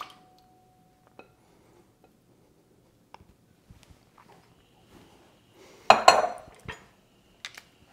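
Pots and utensils clatter as tomatoes are stirred into a beef short rib ragu, mostly faint taps and clicks, then a louder burst of metal scraping and clinking near the end, followed by a couple of light knocks.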